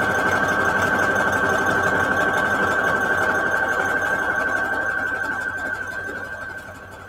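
A sewing machine stitches around the edges of fabric for junk journal pages, a steady, close mechanical whir with a high tonal hum that winds down and softens toward the end.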